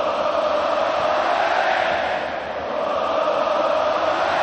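Football stadium crowd at a Morocco home match, a broad, continuous roar of massed voices that swells steadily, loud and enveloping, with no distinct individual sounds standing out.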